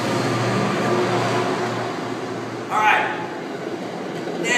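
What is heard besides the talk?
train passing by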